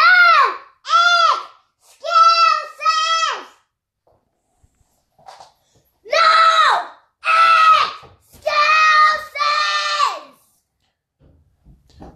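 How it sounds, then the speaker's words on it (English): Children scream in high, strained bursts: four quick shrieks, a pause, then four more, loud and close, with no other talk. "They just wake up and start screaming that shit."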